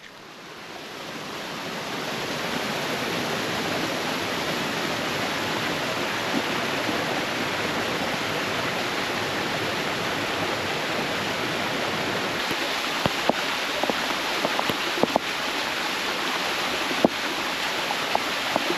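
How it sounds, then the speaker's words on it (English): A waterfall roars as a broad, constant rushing wash, steady and fairly loud throughout, with a few faint clicks late on and no talking. "So we have just pulled up to a waterfall."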